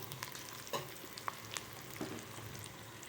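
Onion and grated coconut sizzle in a pan as they are sautéed for mutton kulambu, a soft, steady frying hiss broken by a few light stirring scrapes, close and quiet.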